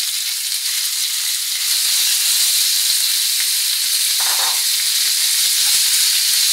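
Boneless chicken dropped into browned onions in a hot pan hisses loudly and continuously from start to finish, a dense close sizzle with faint crackles underneath and no voices.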